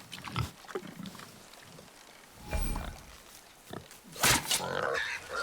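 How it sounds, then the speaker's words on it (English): A wild boar in the God of War video game grunts and squeals in short snorting bursts, some loud and close, amid game ambience and other noises. "A wild boar's hide is thick."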